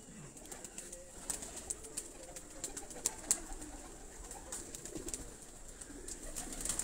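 Pigeons, kept as high-flying birds, cooing softly in a low, steady murmur over a constant background hiss, with occasional faint higher chirps.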